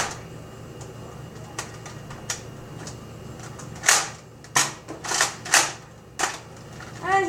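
A Nerf sniper pistol shooting darts, heard as a series of sharp mechanical clacks and springy pops at uneven intervals, growing louder toward the end as the magazine runs empty, with faint talk in the background.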